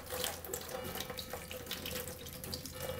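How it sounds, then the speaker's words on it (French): A thin stream of tap water runs steadily into a sink while a makeup brush is rinsed, a continuous close splashing hiss with no voices. "Donc je laisse ce petit filet d'eau."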